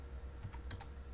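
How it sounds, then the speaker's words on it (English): A few quick keystrokes on a computer keyboard, typing a short search, faint and close over a low steady hum, with no speech. "Again, just type in Bible"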